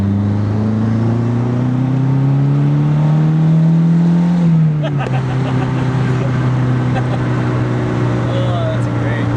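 A tuned Mazdaspeed3 with raised boost pulls hard, its engine note climbing steadily for several seconds, then dropping as the revs fall, heard loud and close from inside the car.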